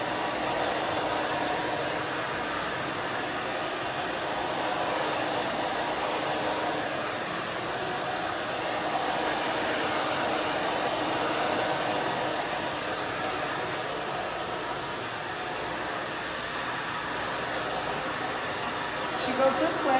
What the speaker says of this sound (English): We're just gonna dry this down in the back.